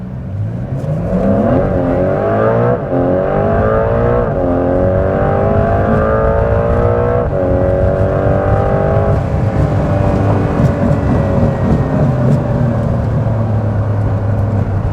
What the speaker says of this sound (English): here we go on the test drive, the best part of any Porsche 911